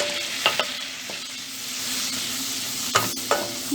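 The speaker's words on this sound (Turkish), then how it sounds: "Böyle iyice un kokusu çıkana kadar kavuralım." A tablespoon of flour roasting in melted fat for a soup fizzes in a steady sizzle, with a few sharp scrapes of a spoon stirring through it, close and without talk.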